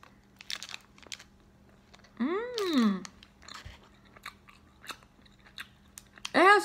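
Someone chews a Quest chocolate chip cookie dough protein bar close to the mic, with soft, irregular crunchy bites and mouth sounds. Brief voiced sounds rise twice, once in the middle and once at the end.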